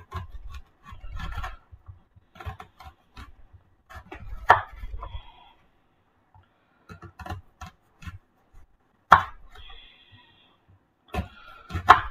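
A knife chops red onions into thin slices on a cutting board in a home kitchen, giving quick clusters of crisp taps separated by short pauses, close and clear with no voices.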